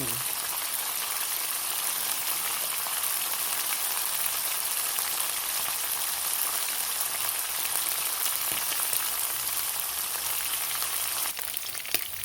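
Pork and tofu sizzle steadily in a pan with plenty of oil, a loud, continuous hiss and crackle that holds for the whole stretch without letting up.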